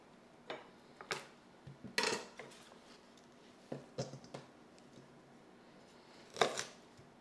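A knife cutting broccoli stems for bulk food prep, sharp irregular chops and taps on a board, close by with short pauses between cuts.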